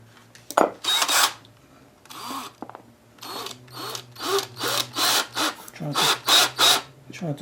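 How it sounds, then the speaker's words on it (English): A power drill bores into a small piece of metal laid on a wooden table, giving repeated bursts of whining, grinding noise in short pulses with brief pauses between them, loud and close. "trying to drill into my table there."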